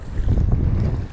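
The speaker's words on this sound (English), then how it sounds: "Sorry about the wind too, y'all." Heavy wind buffets the microphone with a loud, low rumbling roar.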